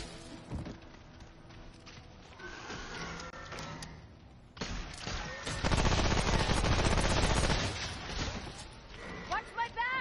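Gunfire in the video game Remnant: From the Ashes, with sporadic shots early on and then a loud, dense stretch of rapid shooting through the middle, mixed with voices.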